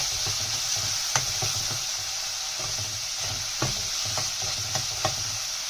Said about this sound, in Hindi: अब इन मसालों को हम इसमें फ्राई करेंगे